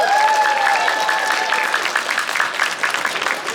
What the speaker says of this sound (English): One more round of applause for our contestants up here.